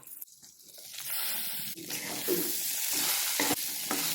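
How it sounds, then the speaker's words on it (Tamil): Steady sizzling and stirring of brinjal frying in a pan, close and continuous, with occasional scraping clicks of a spatula. "கத்திரிக்காய் நல்லா ஃப்ரை ஆயிடுச்சு."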